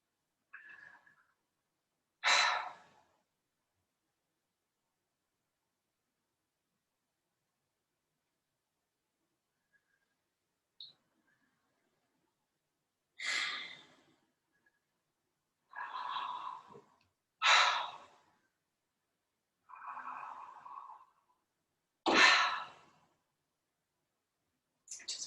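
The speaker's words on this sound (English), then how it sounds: "Just breathing in and out." Rhythmic in-and-out breathing from people doing kriya yoga pranayama, a series of short breaths and sniffs recurring every few seconds after a long quiet stretch, close and soft.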